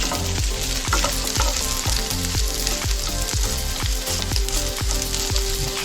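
Fish pizza on a wrap sizzles and fries steadily in a hot pan, with a rhythmic series of scraping stirs running throughout, close and fairly loud, with no talking.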